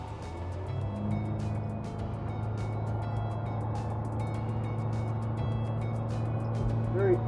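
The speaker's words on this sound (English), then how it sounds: "I'll just give the old throttle a bit of a punch so you can hear it" Cox CXO 300 diesel outboard engine held steady at about 1,000 rpm, giving a deep, even low drone close by that swells slightly as the throttle is punched near the end, with faint clicks over it.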